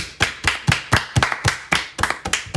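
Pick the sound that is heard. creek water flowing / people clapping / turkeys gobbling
people clapping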